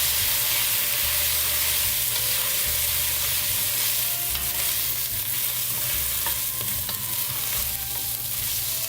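Beef bourguignon with wine stirred in a pot, a dense steady sizzle and hiss with scraping of a spoon along the bottom, close and continuous for several seconds, with no talk.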